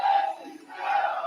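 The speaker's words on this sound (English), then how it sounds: "Cesaro getting a lot of love here from the crowd here" A wrestling crowd at AEW Collision roars and cheers for Cesaro in two loud, sustained swells with a short dip between them, a dense arena wall of voices.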